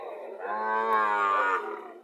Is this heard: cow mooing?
yes